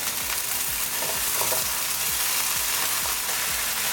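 Bitter melon and potatoes stir-fry with onion in a hot pan, a loud dense sizzle broken by repeated scraping stirs close by.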